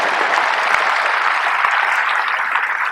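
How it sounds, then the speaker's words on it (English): A graduation audience applauds during a commencement speech with a dense, steady burst of clapping that holds at an even level from start to finish, with no speech over it. "You can applaud that, you should."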